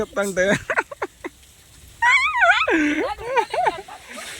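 Four dogs whimper and yelp in high, wavering cries, close by, with short pauses between bursts; people talk intermittently.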